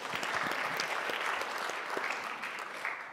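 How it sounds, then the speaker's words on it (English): An audience applauds at a business talk, a dense, steady wash of many hands clapping at moderate distance, fairly soft and fading slightly toward the end. "I think she should get a round of applause just for that"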